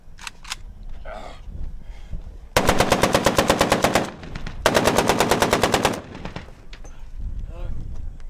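Blank machine gun fire on the Elysium sci-fi film set, two loud sustained rapid bursts of shots each lasting over a second, separated by a short pause, with quieter crew chatter and set noise before and after.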